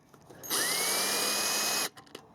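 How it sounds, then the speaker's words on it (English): A power drill spins up to undo a stainless steel band clamp, a single loud whirring burst of a little over a second that rises in pitch and then cuts off, with faint handling clicks before and after. "So what I do for those is I just grab my drill, just take the drill, put it in,"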